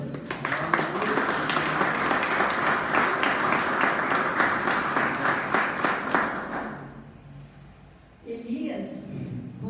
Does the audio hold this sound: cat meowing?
no